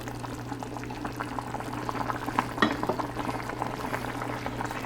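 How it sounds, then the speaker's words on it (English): Water pours into a pot of simmering chicken pasta soup, a bubbling, splashing gush over a steady low boil, with no talking. "I'm gonna add more water to it."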